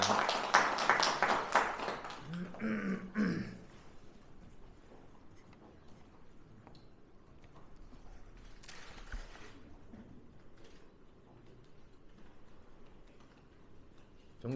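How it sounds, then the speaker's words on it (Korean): Audience applause at a political party policy vision presentation, a burst of clapping loud at first, fading after a few seconds into a quiet room with faint ticking and scattered noise. "여러분 큰 박수로 맞아주시기 바랍니다"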